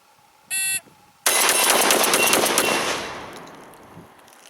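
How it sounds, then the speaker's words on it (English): A Remington 11-87 Police shotgun fires one rapid string of shots on a range after a brief electronic timer beep, the blasts loud and close, blurring into one dense roar that then decays. "Low ready, come up and press the shots as fast as I can."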